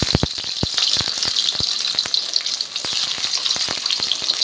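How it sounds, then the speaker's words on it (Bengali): Pieces of maida dough slip one by one into shallow hot oil, and a bright, continuous sizzle rises around repeated soft plops and splashes. The frying sounds close and loud, with no talk. "আমি একটা একটা করে তেলের মধ্যে ছেড়ে দেব"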